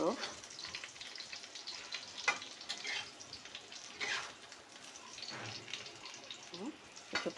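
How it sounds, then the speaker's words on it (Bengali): Potatoes fry in hot oil in a home kitchen pan, giving a steady close sizzle with a few louder spits and crackles throughout, no voices. "তা চলো আমার আলুটা ভাজা হোক"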